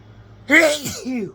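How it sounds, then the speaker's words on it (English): A single close, loud sneeze from a woman indoors, a sharp burst followed by a trailing voiced exhale, with quiet room tone before it. "I may have to sneeze again"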